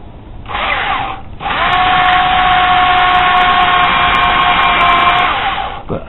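Power tool reaming a hole in a wooden lipped crankbait: a loud, steady whirring drone that starts briefly, pauses, then runs continuously for several seconds before winding down, close and alone with no talk.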